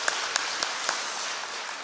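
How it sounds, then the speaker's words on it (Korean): Applause from a church congregation at a Sunday worship service, a dense, steady wash of many hands clapping with a few sharper claps standing out, roomy and sustained throughout. "일단 박수 한번 할까요?"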